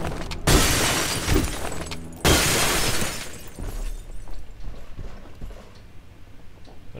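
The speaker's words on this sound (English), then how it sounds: "Glass breaking! The greatest sound in the world." Glass shattering in the Duke Nukem Forever video game, two loud crashing bursts with debris clatter, followed by fainter scattered tinkling and game noise.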